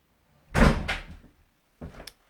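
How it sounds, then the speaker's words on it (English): A front door is shut in a home while cards are being made, giving two separate thuds: a loud, near closing bang with a short rattle, then a softer knock a second later. "Excuse my husband shutting the front door."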